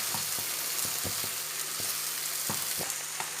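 Masala frying on a tawa for paneer is stirred, giving a soft continuous sizzle broken by a series of quick scraping taps of the spoon against the pan, with no voices.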